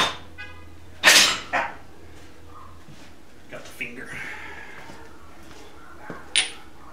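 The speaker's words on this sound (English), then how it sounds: "You can hear my Dachshunds going crazy." Dachshunds shut inside a house bark in scattered, muffled bursts, heard faintly from outside. The yaps come in irregular clusters over a steady low hum.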